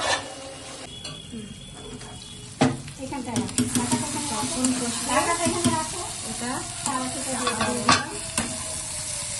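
Masala for crab curry stir-fried in a pan over low heat: a steady sizzle with scraping spatula strokes and stirring clatter, close and fairly loud, with occasional sharper knocks.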